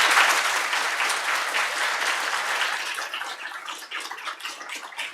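A seminar audience claps at the close of a talk on imposter syndrome, a dense, steady round of applause that gradually thins and fades toward the end.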